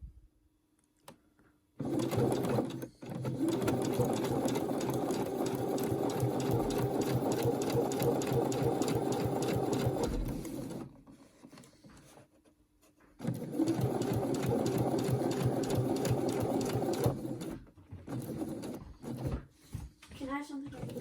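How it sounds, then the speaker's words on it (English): An electric sewing machine top stitches around the edges of a reversible fabric face mask in two long bursts of rapid, steady whirring, split by a short quiet pause, with a voice speaking briefly in the gaps. "So we're now going to top stitch all round the edges of your mask"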